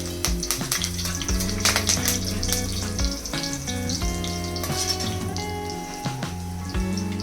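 Cumin seeds and curry leaves crackle and sizzle in hot oil in a kadhai, a continuous frying hiss with sharp pops, heard under steady background music.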